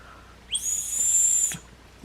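A single shrill, high-pitched dog whistle blast lasting about a second, sharp and clear against a quiet background.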